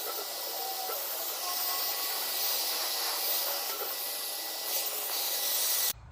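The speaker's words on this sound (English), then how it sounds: "So just a bit of a mist coat on there" A spray gun lays a light mist coat of colour onto a repaired car bumper, producing a steady, close, broadband airy hiss that holds for several seconds and then cuts off abruptly.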